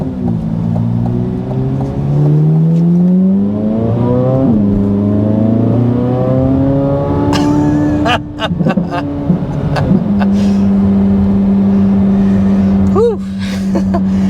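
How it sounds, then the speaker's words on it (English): A Chevrolet Corvette Z06 engine revs hard while driving, climbing through repeated rising sweeps with gear-change dips, then settling into a steady loud drone near and close throughout. "we are behind the wheel of the Corvette Z06"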